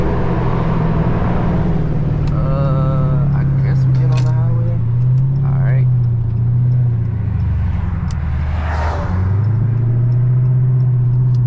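A Chrysler 300 or Infiniti Q50 cruises along with a steady low engine drone that rises and dips as it shifts, with talking voices running over much of the drive.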